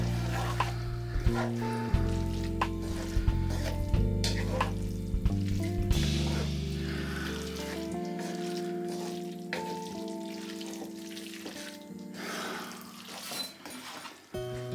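Pasta stirred into chicken livers in a frying pan, giving a steady sizzle with scraping and clinking of the stirring utensil, while background music plays throughout.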